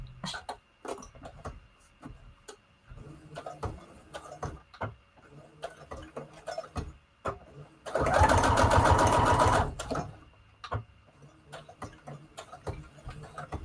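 A sewing machine back stitches on a junk journal tag in one loud burst of about a second and a half, set among scattered clicks, taps and handling noises.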